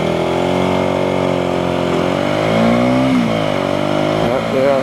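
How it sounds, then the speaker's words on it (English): A 125cc motorcycle ridden through Singapore traffic, its engine droning steadily close by with pitch rising and falling as it accelerates, while a rider talks over it. "I'm riding a 125cc and I don't want to go too hard on my bike."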